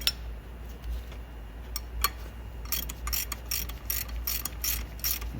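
Ratchet tightening brake caliper bolts on a Jeep Wrangler JK during a front brake pad and rotor replacement, quiet at first, then rapid clicking bursts in quick repeated strokes.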